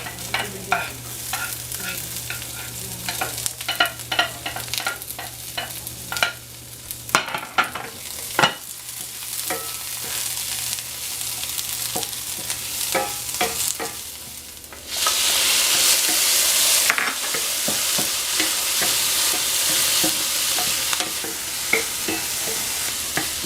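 Onions and potatoes hit a hot pan with sauteing garlic and sizzle steadily, with close stirring scrapes and clicks throughout; the frying hiss grows louder and brighter partway through as more food goes in.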